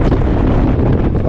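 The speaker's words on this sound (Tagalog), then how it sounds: "Ang lakas ng hangin" Strong wind buffets the microphone in a continuous, loud rumbling roar with no pauses across the short stretch.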